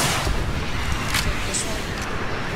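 Fortnite gunfire in a loud, continuous barrage of booming shots and blasts that fills the whole moment, dense and close with no clear gaps.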